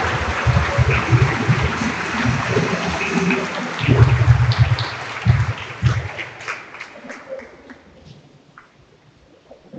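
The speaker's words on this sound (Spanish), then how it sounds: "Y también a Monseñor Alfredo, otro fuerte aplauso." A church congregation applauds a priest and a monsignor at a Catholic service, a broad wash of clapping that swells, peaks midway and then tapers off to near quiet.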